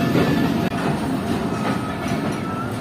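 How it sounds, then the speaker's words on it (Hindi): A Shaheen Passenger train rolls along the main line out of Sialkot Junction, a loud, continuous rumble and clatter of rail wagons heard from on board with no talking. "ट्रेन और ट्रैक्स चेंज करके मेन लाइन पर आ चुकी है"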